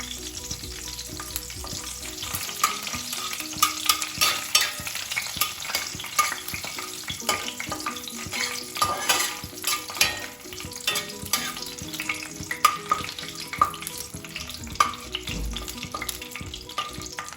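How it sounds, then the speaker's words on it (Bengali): Dried red chillies and bay leaves fry in hot oil with a steady, dense sizzle and crackle, punctuated by frequent spoon scrapes and stirring clatter throughout, close and moderately loud, with no talking. "তেজপাতাগুলো ভালো করে ভাজতে দেবো"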